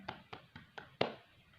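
A class group claps five times in a steady rhythm, the last clap the loudest, faint and close together in a quiet room.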